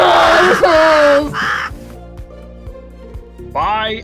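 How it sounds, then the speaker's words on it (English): Seagull cries used as a sound effect: harsh squawking calls burst out at the start and again at the end, with quieter low sounds between them. "Invisible seagulls!"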